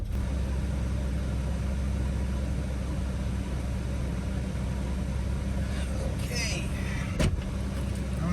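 A Toyota SW20 MR2 idles steadily with a low, continuous engine hum as it is driven out of a home garage, with a brief faint mechanical sound near the end.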